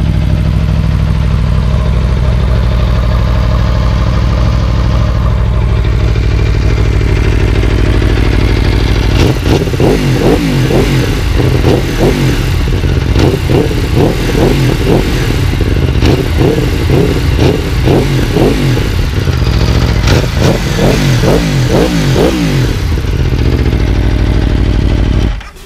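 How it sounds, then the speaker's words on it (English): An Aprilia RSV4 RF sportbike, warmed up, idles on its exhaust and then breaks into repeated sharp throttle blips and revs, loud and close, with bursts clustered through the middle and later part of the clip. "We previously warmed the bike up inside before bringing it out for that sound test of the exhaust."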